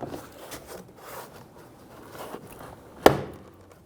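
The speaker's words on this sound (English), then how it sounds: "we're disconnecting the plastic retainer buttons" A single sharp plastic pop at about three seconds as a retainer button releases from a Dodge Charger door panel, following a stretch of faint handling noise and rustling.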